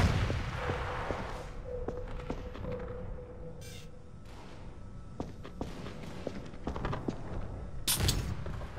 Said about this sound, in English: Oh, those are missiles.